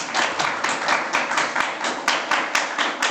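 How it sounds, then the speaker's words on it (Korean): A small audience claps to welcome a lecturer at a workplace talk, a few people producing a loose, rhythmic patter of distinct hand claps, close and moderately loud. "박수 부탁드립니다."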